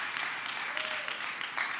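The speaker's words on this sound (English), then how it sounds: "You should clap a lot louder for that." A church congregation applauds in a steady, moderate wash of clapping that runs throughout, with a voice faintly present underneath.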